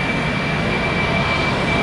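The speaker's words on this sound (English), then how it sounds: "Prime 767 heavy jet to CVG. Cincinnati, Northern Kentucky Airport." Boeing 767 heavy jet taking off from Cincinnati/Northern Kentucky Airport, a loud, steady broadband engine roar with a faint high whine, continuous throughout.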